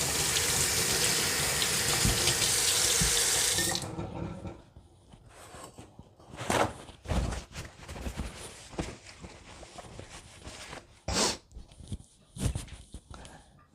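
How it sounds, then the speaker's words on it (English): Tap water runs loudly into a sink for several seconds while hands are washed, then cuts off, leaving scattered handling clatter and faint footsteps nearby. "Let me wash my hands so I can show you."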